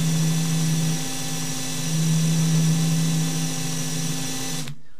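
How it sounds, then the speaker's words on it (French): Cordless drill spinning an e-bike wheel to turn its hub motor as a generator: a steady, loud whirring drone with a constant low tone, continuous for over four seconds before cutting off abruptly, no talk. "Je vais tourner avec ma visseuse la roue."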